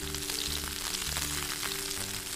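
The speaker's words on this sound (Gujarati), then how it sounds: "એક મોટી સાઈઝની ડુંગળીને આ રીતે એકદમ પાતળી સમારી અને ઉમેરી દઈશું એકદમ બદામી રંગની થાય એવી એને સાંતળી લેવાની છે" Thinly sliced onion sautéing in hot ghee and oil for ghee pulao, a steady close crackling sizzle with a faint tonal hum beneath and no talking.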